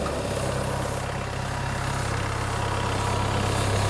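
A Cooks portable sawmill's engine runs at a steady low throttle, a constant loud droning hum with even low pulsing and no breaks, close by and with no talk.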